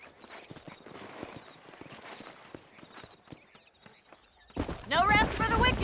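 Horse hooves clip-clop in a rapid rhythm in the Western video game Red Dead Redemption, close and steady, then a horse whinnies near the end as someone speaks over it.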